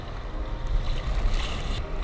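Ocean waves washing on the Kenai beach, a close, steady rush of surf with wind buffeting the microphone.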